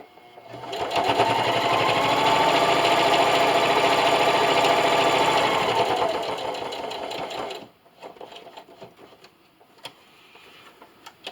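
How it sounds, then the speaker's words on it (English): A sewing machine stitches elastic onto fabric in a steady, fast mechanical whir for several seconds, then stops, leaving faint handling clicks and rustles nearby. "So just keep sewing."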